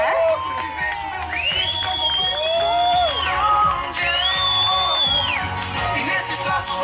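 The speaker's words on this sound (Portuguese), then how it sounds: "uma salva de palmas a ele merece, né?" A live audience applauds and cheers loudly and steadily at a show. Whoops and high whistles rise above the crowd, with voices mixed in throughout.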